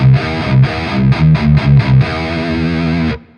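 Distorted electric guitar played through a Celestion G12T-75 speaker, chugging palm-muted riffs in short rhythmic bursts, then a sustained ringing chord that cuts off abruptly near the end.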